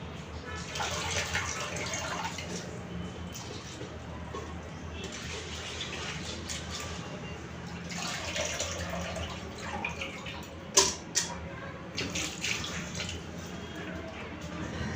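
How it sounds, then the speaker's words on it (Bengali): Lentils are rinsed under a running kitchen tap, with a steady stream of water splashing and swirling in a bowl, surging in waves and broken by a couple of sharp knocks, while someone speaks over it. "আর এদিক থেকে আমি ডালটাকে একটু ধুয়ে নিই"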